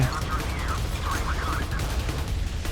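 Naval cannon fire in the Modern Warships game, with booming gunfire and mechanical clatter over a steady rumbling battle background.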